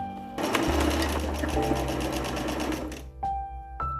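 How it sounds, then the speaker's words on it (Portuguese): A sewing machine runs a straight seam at normal tension on a cut-down tank top, buzzing in one continuous burst for a few seconds, then two quick short bursts of stitching. "quem tá costurando com máquina, a costura reta, da mesma forma que a gente fez a pence"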